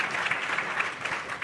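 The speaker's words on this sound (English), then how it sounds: "please applaud" A large audience at the Aspen Security Forum breaks into sustained, dense applause, steady and loud across the whole moment.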